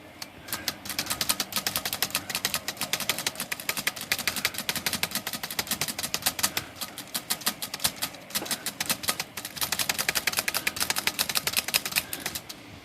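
A Hermes 3000 typewriter with sticky keys is typed on steadily, giving dense, rapid clacking keystrokes that run nearly unbroken with brief pauses, close and loud with no talk.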